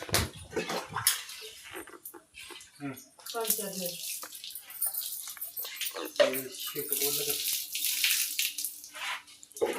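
Warm water from a heater is poured and splashed to wash a newborn calf, irregular close splashing and running water mixed with people talking.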